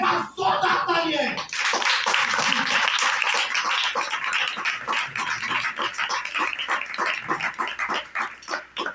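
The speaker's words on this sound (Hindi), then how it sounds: "एक बार जोरदार तालियां।" A congregation at a church service claps loudly, first a brief murmur and voice, then a sharp burst of many hands that settles into rhythmic, evenly spaced unison clapping, close and strong.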